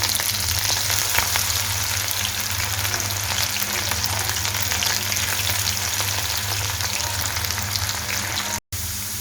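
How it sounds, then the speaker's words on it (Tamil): Corn deep-frying in hot oil, a loud, steady, close crackle and sizzle that continues without a break, briefly cut off near the end, with no voices over it. "நல்லா ஃப்ரை ஆகிடுச்சு பாருங்கள்."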